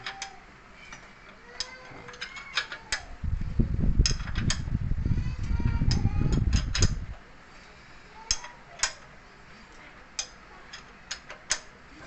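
A 1995 Suzuki Vitara engine being turned over by hand while the timing belt is set, with a steady run of light mechanical ticks and clicks and a louder rumbling stretch of turning in the middle, close by.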